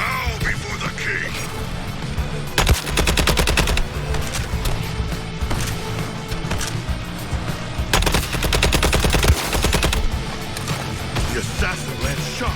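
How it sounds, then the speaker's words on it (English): Rapid gunfire bursts from the video game Suicide Squad: Kill the Justice League, loud and dense, with two long automatic volleys amid constant combat noise and game voices. "The assassin lands shot after shot."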